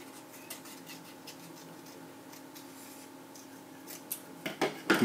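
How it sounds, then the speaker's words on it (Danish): Scissors cut paper for a handmade bookmark craft, a few soft snips and rustles close by, quiet through most of the clip and growing into sharper, louder cuts near the end. "Vi klipper papiret til"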